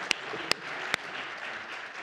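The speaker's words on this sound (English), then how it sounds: "I'd like you to all give a round of applause" An audience at an Emerging Scientist award ceremony applauds as Andrew Martin receives his award. The dense clapping is steady and fairly near, broken by three sharp, loud claps near the start.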